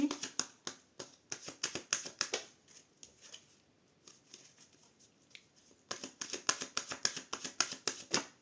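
Tarot cards being shuffled, with quick runs of crisp riffling snaps in rhythmic bursts, a quieter pause in the middle, then another brisk flurry close to the listener.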